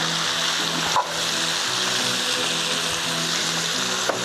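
Peppers, onions and carrots sizzle steadily in a hot pan, a constant close frying hiss with faint clinks of stirring and no talk.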